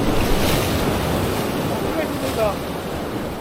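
Waves crash and surge against a breakwater on the Uljin coast, a steady loud wash of surf with strong wind buffeting the microphone throughout.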